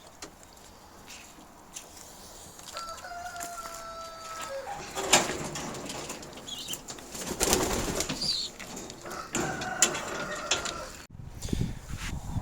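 Sport pigeons coo in a loft, soft repeated calls rising and falling over a low background murmur, with a few brief wing flaps and shuffles nearby.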